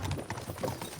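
Horses' hooves clip-clop in quick, busy rhythm as they pull along in the video game Kingdom Come Deliverance 2, close and steady over a low rumbling backdrop.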